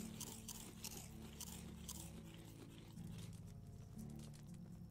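Roasted meat is eaten in the Medieval Dynasty video game, giving faint, repeated crunchy bites and chewing in a steady rhythm, with no speech over it.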